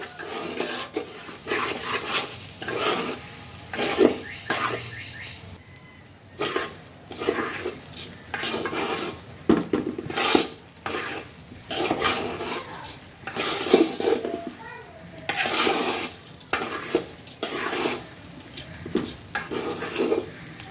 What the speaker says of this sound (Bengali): এভাবে নেড়ে চেড়ে কষ্ট হলেও একটু ভালো করেই ভেজে নিতে হবে